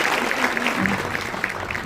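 Dense, steady clapping from an audience at a youth social event in a mall in Rewari, with crowd noise throughout the short burst.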